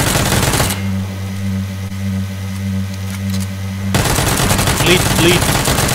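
Automatic weapon fire from a PUBG duo match, a continuous burst lasting roughly three seconds against a steady low hum, with game noise continuing afterward.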